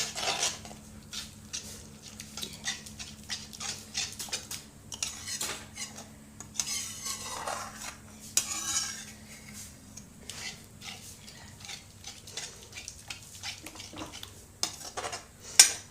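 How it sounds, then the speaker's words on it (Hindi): A spoon stirs buttermilk curry in a pot as it heats toward a boil, made as an offering for Shiva: quiet, irregular clinks and soft scraping against the pot, close and faint, with no talking. "मट्ठा जब तक उबलेगा नहीं तब तक हम चलाते रहेंगे।"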